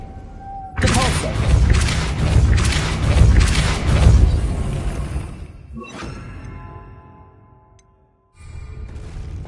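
A Depulso spell cast in Hogwarts Legacy lands as a heavy booming burst that swells and rolls for several seconds, followed by a sharper secondary impact and fading debris before a quieter ambient return.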